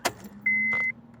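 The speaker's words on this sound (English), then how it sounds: "inside the car, I want to turn the key on to accessory" Key turned to accessory in a 2010 Honda Civic, heard as a close click followed by a short steady electronic chime tone lasting about half a second, with a faint hum underneath.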